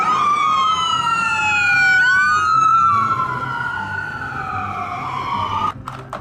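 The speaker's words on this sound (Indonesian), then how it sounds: "Wah, mobil ambulans." A loud ambulance siren wails in long sweeping rises and falls, close by, with traffic noise underneath.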